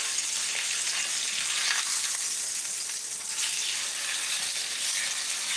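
Steak sears in a Wagner 5-Star cast iron combo skillet, giving a steady, dense sizzle that holds close and loud for the whole stretch, with no voices.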